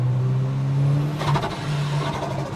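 A turbocharged Toyota Hilux engine with a wastegate that will not open, heard from inside as a steady, loud droning rev that rises under acceleration, with a whirring turbo tone.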